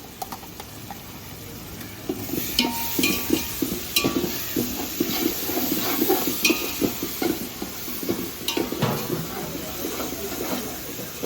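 Ginger garlic paste frying and being stirred with softened onions and tomatoes in a pot for a large biryani, with steady sizzling, scraping spoon strokes and occasional clinks of metal cookware throughout.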